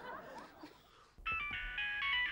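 A mobile phone starts ringing partway through, a bright electronic ringtone with stacked tones that continues after a quiet stretch of faint room sound.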